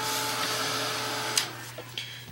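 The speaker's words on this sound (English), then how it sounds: "And the heat tool doesn't take very long." Heat tool blowing a steady, loud whir of hot air over wet acrylic paint, a continuous broadband roar with a low hum, punctuated near the end by a few brief knocks.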